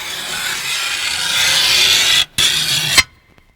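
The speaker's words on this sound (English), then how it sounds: "Nails on the blackboard. Loud." Fingernails drag loudly across a blackboard in a harsh, continuous screech lasting a few seconds, briefly broken by a short gap, then cutting off abruptly into near silence.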